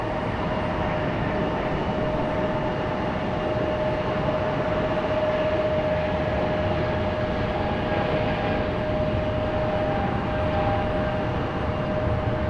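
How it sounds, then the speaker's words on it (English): A JetBlue Airbus A220 jet airliner takes off at Raleigh-Durham International Airport, heard from a distance. The engine roar is steady and sustained, with a faint high whine running through the low rumble and no speech. "It's time for the JetBlue A220."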